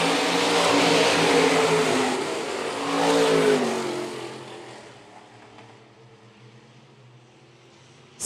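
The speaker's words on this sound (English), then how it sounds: "Single file are your IMCA stock cars." IMCA stock cars on the Phillips County Raceway dirt oval roar past, engines revving loud, swelling twice, then receding into a distant drone as the pack moves away.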